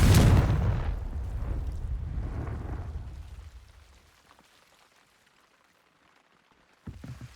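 A Confringo blasting spell from Hogwarts Legacy goes off with a loud, rumbling explosion that decays over about four seconds, followed by near silence and then a short sharp burst at the end.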